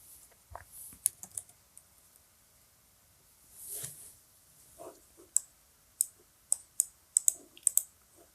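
Someone types on a computer keyboard, entering a database user name during WordPress setup: scattered quiet key clicks, then a quicker run of sharper taps near the end, close and fairly faint.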